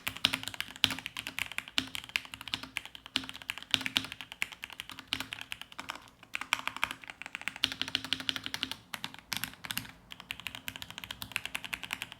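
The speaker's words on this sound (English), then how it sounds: "So here is my Drop CST M80 with yellow switches." Typing on a Drop CSTM80 mechanical keyboard with yellow switches, rapid close clacks in uneven bursts with brief pauses, steady and moderately loud, no voices.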